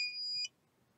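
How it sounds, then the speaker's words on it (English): A single high, steady electronic beep from a Madcow Torrent rocket electronics-bay altimeter just after power-on, lasting about half a second and then cutting off to near silence. "And we can hear it beeping."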